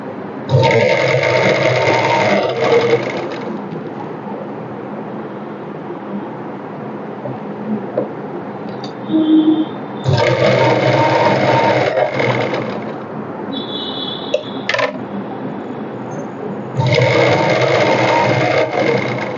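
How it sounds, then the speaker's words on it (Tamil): A sewing machine stitches the shoulder seams of a blouse in three loud, steady runs of whirring, separated by quieter gaps with faint handling of the fabric. "கரெக்டாக ஒன்று போல் வச்சு ரெண்டு தையல் ஷோல்டருக்கு."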